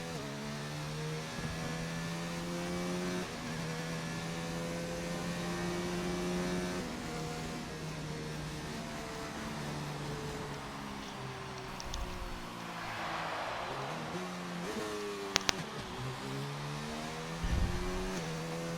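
Racing cars in an Xbox Grand Prix game at the Italian circuit, engines droning and shifting pitch as they rise through gears and drop on downshifts, steady and continuous with a brief rush of noise midway and no speech.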